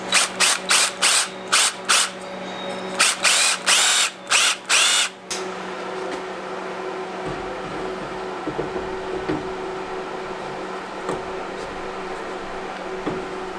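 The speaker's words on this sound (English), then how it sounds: "I'm going to drill this out." A power drill boring a hole for mounting a dual-core radiator with a slim fan, in loud repeated bursts of whining over the first five seconds, then stopping, leaving quieter handling sounds and low background hum.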